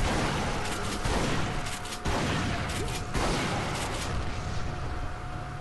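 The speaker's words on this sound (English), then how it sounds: "You want pipe bombs? There's a pipe bomb for you." Pipe bombs going off in the Duke Nukem Forever video game: a dense run of loud, booming blasts that crowd together continuously with no quiet gaps.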